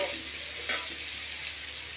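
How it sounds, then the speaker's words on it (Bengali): Onion, chili and garlic sizzle steadily in a hot pan as they are stirred slowly, a continuous close frying hiss with a brief louder scrape partway through. "এবার পেঁয়াজ মরিচ রসুন একসাথে ধীরে ধীরে নাড়বো"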